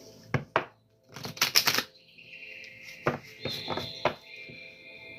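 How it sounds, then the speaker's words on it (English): A deck of playing cards being shuffled at a table, several quick rippling bursts of riffling separated by short pauses, close and fairly quiet, with no talk. "Let me shuffle."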